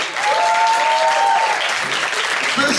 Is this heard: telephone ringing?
no